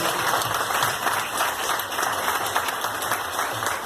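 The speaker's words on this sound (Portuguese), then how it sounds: "E se você quer, aplaudir o nome do Senhor Jesus." A church congregation applauds in praise of Jesus, a sustained wash of clapping from many hands with some reverberant hum beneath.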